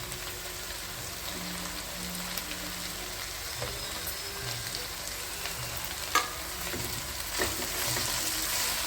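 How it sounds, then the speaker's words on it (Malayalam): Fenugreek leaves and green chillies sauté in a hot pan, giving a steady close sizzle with scattered soft clicks and scrapes from stirring throughout. "ഇത് നന്നായിട്ടൊന്ന് വഴറ്റിയെടുക്കാം നമുക്ക്."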